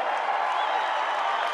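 A large crowd at an outdoor political rally in bad weather cheers and claps in a steady, dense wash of noise that holds level throughout, without pauses or distinct individual shouts.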